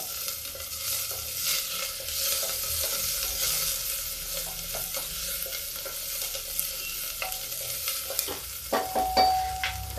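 Onions with cumin fry and sizzle on high gas as asafoetida goes in, a steady close hiss of hot oil under repeated stirring scrapes, with a few sharper metallic clicks near the end.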